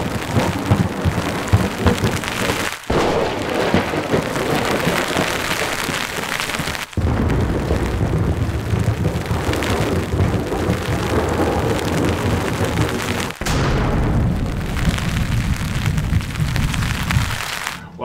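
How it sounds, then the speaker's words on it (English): Heavy rain pours steadily during a thunderstorm while a muskie fishing trip waits it out, with loud rolling thunder booming through a dense wash of rainfall, broken by a few brief sharp cuts. "We had some pretty good lightning and thunder."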